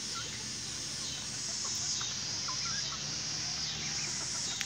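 Creve Coeur chickens cluck and squawk in short, scattered calls over a steady background hiss, several birds fussing at a moderate distance.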